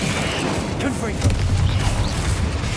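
Confringo spell blasts in Hogwarts Legacy, a burst of booming, crackling explosions with rumbling low thuds building in the second half, loud and dense, with a voice speaking over the start.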